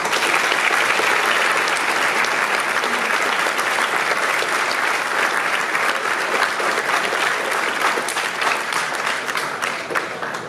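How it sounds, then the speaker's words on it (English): A school honors assembly audience claps steadily and loudly for the full length, with dense, even applause from a large crowd that tapers slightly at the end. "let's give them a round of applause."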